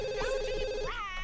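A telephone rings in the life-simulation video game The Sims 2, a steady electronic ringing tone with warbling game voices and music layered over it.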